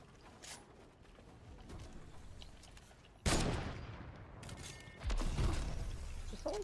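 Gunfire in a Fortnite match: quiet scattered background noise, then two loud close bursts of shots that crack hard and trail off under continuing rattle, with no voices.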